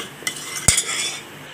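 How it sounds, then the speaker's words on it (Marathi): A spoon mashes and stirs cooked dal in a pot for a Rajasthani dal baati meal, with a few sharp metallic scrapes and clinks over a soft wet background. "आता याला थोडं चमच्यानेच असं आपण थोडीशी इथे घोटून घ्यायची डाळीला."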